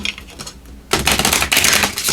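Tarot cards are shuffled in quick riffling bursts, a lighter patter first and then a louder, denser flutter of cards, close and without talk.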